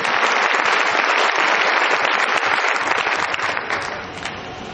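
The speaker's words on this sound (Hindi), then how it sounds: "एक बार जोरदार तालियों के बीच" Loud, dense audience applause at a stage awards event honouring achievers, sustained throughout and tapering slightly toward the end, with no voices over it.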